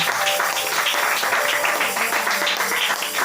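A church congregation claps and cheers throughout the service, a dense, steady wash of applause with some voices mixed into the crowd noise.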